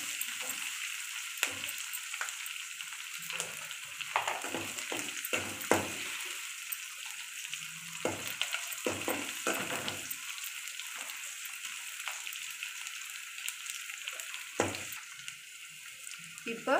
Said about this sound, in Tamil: இது நல்லா வதக்க வதங்கட்டும்.